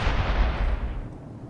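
A warhead detonates in the Space Engineers video game, one deep booming blast that rumbles and decays over about a second and a half.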